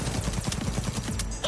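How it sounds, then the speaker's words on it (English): An enemy fires at the player in the video game Cyberpunk 2077: Phantom Liberty, a dense rapid burst of loud, close gunshots lasting over a second. "Now he's shooting at me."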